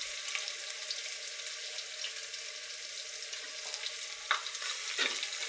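Garlic and cumin spice paste frying in a pan for a chicken and snake gourd curry, with a steady close sizzle, scraping stirs and a couple of sharper clinks near the end, no voices.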